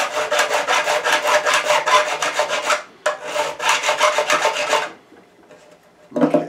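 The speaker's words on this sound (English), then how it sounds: "I am basically trimming the frets even" Metal file rasping back and forth across guitar frets, leveling them square with the fretboard; close, steady rapid strokes in two long bursts with a short gap, then a brief scrape after a pause.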